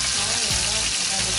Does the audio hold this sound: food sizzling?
yes